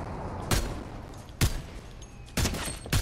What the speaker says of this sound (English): we got gunfire down here